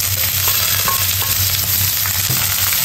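Chopped bitter gourd frying in coconut oil with mustard seeds, curry leaves and green chillies for a Kerala Onam sadhya dish, giving a steady close sizzle with a low hum and a few faint clinks throughout.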